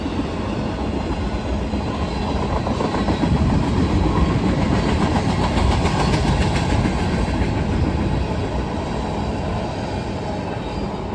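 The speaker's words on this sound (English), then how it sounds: "we got another Norfolk Southern train coming" A Norfolk Southern train rumbles steadily past close by, with continuous wheel clatter and rolling noise filling the whole stretch, no voices.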